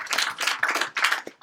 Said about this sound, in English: And let's give Bella a quick round of applause.